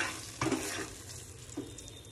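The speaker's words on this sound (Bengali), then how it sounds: "এবার আমি এর মধ্যে জল দিয়ে দেবো। অল্প অল্প করে জল দেবো" Small splashes of water poured little by little into a hot cooking pan, a brief burst of sizzle near the start and a second softer one shortly after, over a faint background hiss.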